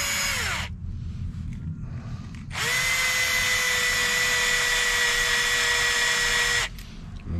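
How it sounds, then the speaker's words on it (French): A power drill drives screws into a Hot Bodies e817t 1/8 kit: a short whining burst with a falling pitch, a pause, then a long steady high whine that stops abruptly, over a constant low background hum. "on visse en étoile, on fait des diagonales"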